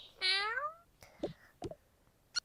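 A cartoon cat in the video game TOCA Life World lets out one loud, clear meow near the start, then soft scattered game clicks and pops follow, with no talking.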